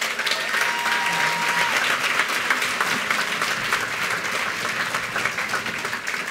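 A large audience claps in sustained, dense applause to welcome keynote speaker Tara Magalski at the 2015 Into the Light Walk, holding an even level from start to finish.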